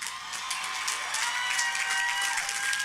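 Graduates at a College of Staten Island commencement ceremony cheer and applaud together, a broad steady roar of clapping with scattered whoops and a few whistles rising through the crowd, no speech over it.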